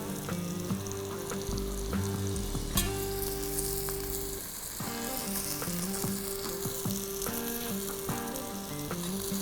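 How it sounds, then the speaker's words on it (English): Cherry tomatoes added to a hot pan of Kerala-style fish moilee sizzle and fry with a dense, steady crackle, while metallic clinks and stirring scrapes sound close by. "I've got these lovely chotu cherry tomatoes, which I'm going to be adding in here as well."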